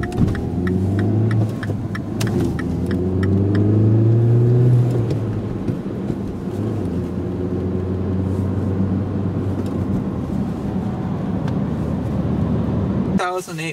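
A 2008 Volkswagen Passat with a manual transmission idles and rumbles in a steady, throbbing drone close by, with a brief rise in engine pitch early on and a clunk at the end.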